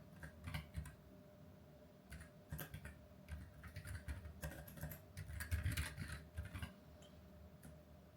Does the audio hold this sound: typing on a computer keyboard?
yes